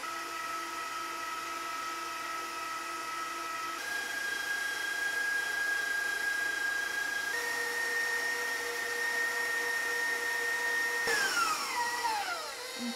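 Electric stand mixer beating eggs and sugar for a cake batter, a steady motor whine that holds for several seconds, then steps up in pitch as the speed increases, close and continuous with no talking.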